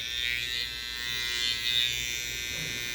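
Barber's electric hair clipper running steadily in a barber shop, a continuous high buzzing hum that stays close and fairly loud for the whole stretch with slight swells, no talk over it.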